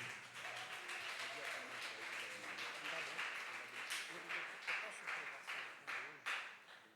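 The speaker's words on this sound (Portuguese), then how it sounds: "E a igreja aplaude ao Senhor" Members of a Portuguese-speaking church congregation clap together in praise during a worship service, scattered then increasingly rhythmic claps under a voice speaking over them, the claps growing more pronounced in the final seconds.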